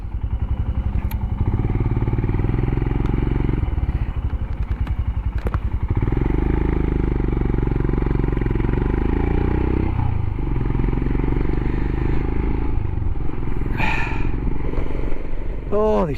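A Royal Enfield Himalayan motorcycle rides through the evening with a steady, loud engine drone that rises and falls as the throttle changes, close to the rider, with occasional clatter and wind.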